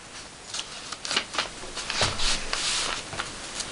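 Sheet of paper being folded and creased into a paper van, with soft crinkling rustles and sharp crease swipes in short irregular bursts, close up and alone.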